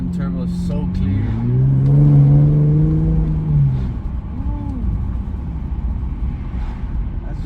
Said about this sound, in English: Let's see if we can hear the turbos.